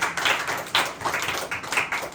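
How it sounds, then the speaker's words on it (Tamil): A church congregation claps loudly in uneven bursts, several sharp clusters of hand claps rising and falling close by with brief gaps between them, no talking. "சத்தமா கைத்தட்டி ஆண்டவரை மகிமைப்படுத்துவோம்."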